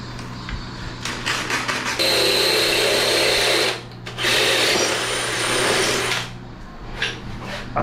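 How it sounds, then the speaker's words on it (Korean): A power drill bores holes into a bathroom floor for a partition installation. The loud, steady drilling whine runs in long bursts with brief pauses and short restarts. "바닥부터 좀 타공을 해볼게요."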